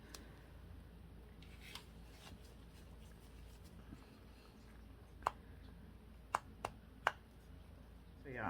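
Cured UV resin pendant pieces are trimmed with scissors in a quiet room: a few soft rustles, then several crisp, close snips in quick succession.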